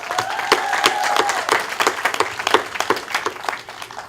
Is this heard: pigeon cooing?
no